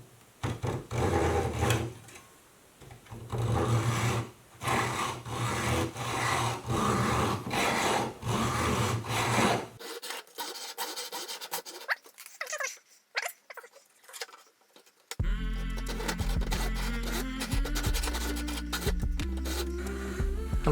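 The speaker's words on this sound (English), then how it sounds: "I do have my hacksaw blade on backwards because I do want to cut it on pull stroke instead of push" A hacksaw with its blade mounted backwards cuts a glass DRO scale on the pull stroke, shortening it by about 90 mm: steady rhythmic rasping strokes up close, then quieter fumbling, and a different steady tone toward the end.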